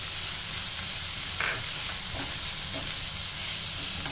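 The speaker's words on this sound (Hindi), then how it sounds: "हम हरी मिर्च और प्याज डाल देंगे, इसको हल्का सा सौते करेंगे" Green chilies and onion sautéing lightly in oil for a leftover dosa batter breakfast, a continuous close sizzle and hiss with a few soft stirring touches and no talk.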